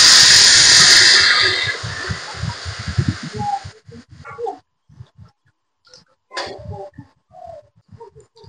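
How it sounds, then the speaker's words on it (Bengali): Strained tamarind water poured into hot oil with mustard seeds sets off a loud burst of sizzling that fades over about three seconds. Scattered soft clinks and scraping of a spoon against the pan follow. "সরষে গুলো ফোড়নে দিলাম, তেঁতুল যে গুলে রেখেছি একবারে ছেঁকে আমি দিয়ে দিচ্ছি।"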